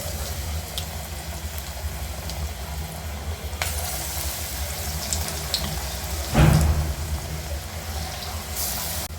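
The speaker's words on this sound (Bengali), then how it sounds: "আমি বাকি পাকোড়াগুলো ভেজে নেব।" Cabbage pakoras frying in oil in a home kitchen, a continuous even sizzle throughout with a short louder clatter partway through and no talking.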